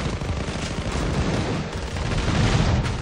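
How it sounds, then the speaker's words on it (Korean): Dense barrage of missile and gunfire in the Blue Archive game's Binah raid battle, a continuous loud rumbling roar of overlapping blasts with no clear gaps, heard alone without talk. "아니 미사일 왜 이렇게 많이 쏴?"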